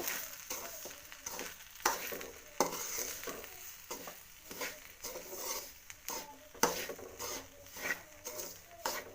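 Semolina being stirred and gently warmed in a pan for instant vegetable idli, a steady soft scraping and rustle with irregular clinks of the spoon against the pan, close, with no talk.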